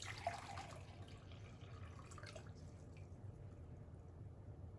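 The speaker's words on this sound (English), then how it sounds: "if I were to pour this cup into here" A cup of water is poured into a container, starting with a brief splashy gush that quickly settles into a quieter trickle. The sound is faint and close, with no one talking.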